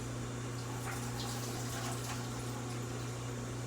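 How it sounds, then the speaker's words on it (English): Running tap water rinses pre-cut butternut squash, a steady, faint, even rush with a low hum beneath it and no clear breaks. "I'm rinsing off my butternut squash."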